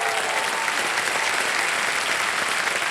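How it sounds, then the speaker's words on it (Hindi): A studio audience applauds on a televised quiz show, a loud and sustained burst of clapping from many hands, steady for the whole stretch with no talk over it. "ताली बज जाए आपके लिए"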